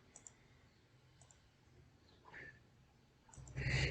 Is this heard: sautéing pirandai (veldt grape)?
no